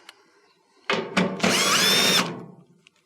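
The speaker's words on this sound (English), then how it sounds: "Remove these 2 1/4-inch screws" Power drill backing out quarter-inch screws from a Whirlpool dryer top panel, with two short whirring bursts followed by a longer, louder high-pitched spin close by.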